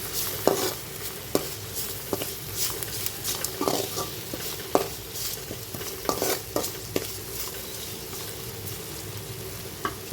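Spice paste for a chicken fry sizzling steadily in a pan while a spoon stirs it, with irregular scraping taps over the constant frying hiss, close and fairly loud, no voices.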